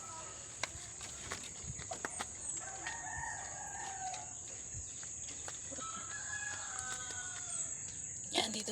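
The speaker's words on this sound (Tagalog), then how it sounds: "may manok din kami" A rooster crows in a garden, with a few drawn-out calls at moderate distance over a steady high insect-like whine and faint background movement.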